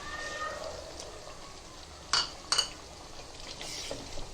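A spoon stirs Konkani mutton pulao with potatoes, coriander and mint in a pot, giving two sharp metallic clinks over a faint background sizzle.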